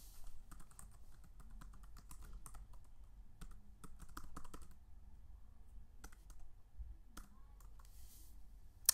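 Quiet, close computer keyboard typing as a URL is entered: irregular bursts of light clicking keystrokes with short pauses in between, no speech.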